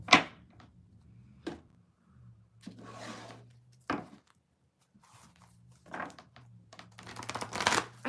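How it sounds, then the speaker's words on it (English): Tarot cards are shuffled by hand in sharp bursts of riffling and slapping, with quiet gaps between and a low steady hum underneath, close and fairly loud, with no talking. "those cards suck to shuffle"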